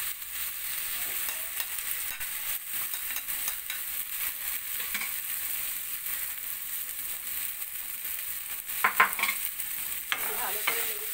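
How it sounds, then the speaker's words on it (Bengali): Cauliflower and potatoes sizzle in a frying spice paste while a spoon stirs them, giving a steady hiss with scraping and clicking stirs throughout. "ভালো করে নেড়ে চেড়ে দিচ্ছি। ফুলকপিটা মশলার সামনে কষিয়ে নিচ্ছি।"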